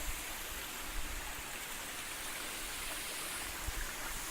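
Small waterfall at Purling Brook Falls in Springbrook National Park, with a rock pool and little bridge nearby: a steady, dense rush of falling water, even and continuous throughout, with no voices.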